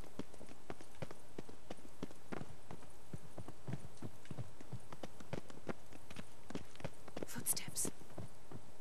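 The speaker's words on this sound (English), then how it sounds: "Footsteps." Footsteps in The Witcher 3: Wild Hunt, a run of fairly regular thudding steps under quiet low voices, with a brief brighter clatter near the end.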